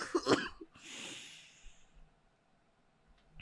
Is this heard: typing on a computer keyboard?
no